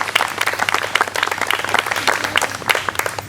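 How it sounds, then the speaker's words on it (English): Applause from a crowd at an outdoor charity walk raising funds for OCD awareness in Atlanta, a steady patter of many hands clapping close by, filling the moment with no talk over it. "we owe a big round of applause to everybody for all of your fundraising efforts"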